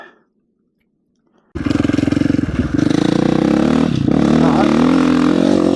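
A motorcycle engine with a newly adjusted clutch position starts abruptly after a brief silence and runs loud and close, holding a steady rumbling drone with small shifts in pitch.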